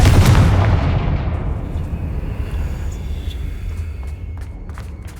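A Confringo fire-blast spell exploding in the video game Hogwarts Legacy, a loud deep boom that rumbles and fades over several seconds, with faint crackles in the tail.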